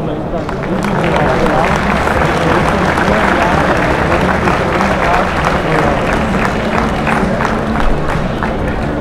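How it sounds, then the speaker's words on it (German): An audience claps at a cattle breeding show, a dense, continuous round of applause with some cheering, steady throughout, with voices mixed in. "Und das ist euer Applaus"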